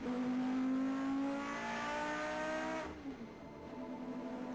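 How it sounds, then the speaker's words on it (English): Renault Formula One engine from a Williams Renault revving in the Nigel Mansell's World Championship Racing intro, a loud rising whine that climbs steadily, then drops sharply and settles back to a lower drone. "Sounds like Nigel Mansell's Renault engine from his Williams Renault back then revving up."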